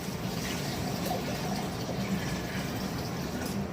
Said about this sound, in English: Now we're going to add in our water.